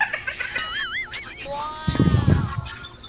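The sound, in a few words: ducks waking and calling at a farm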